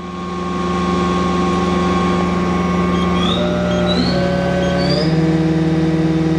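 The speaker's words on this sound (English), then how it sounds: "we're going to run the spindle up and down on some speeds" A Mori Seiki NH5000 four-axis horizontal machining center spindle spins at 6,000 RPM, giving a steady loud mechanical drone with sustained tones and rising whine sweeps as speed shifts near the end.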